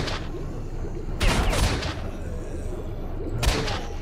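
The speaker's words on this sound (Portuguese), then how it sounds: "Tô tomando tiro." Gunfire in the S.T.A.L.K.E.R.: Shadow of Chernobyl video game, with two loud bursts of shots over a continuous rumbling background. The second burst is shorter.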